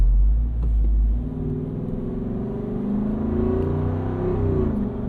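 A Jeep Wrangler 392 Final Edition's Hemi V8, paired with a ZF 8-speed automatic, rumbles deep and loud, swelling as revs rise and easing through paddle-shifted gear changes, then holding a steady throaty drone.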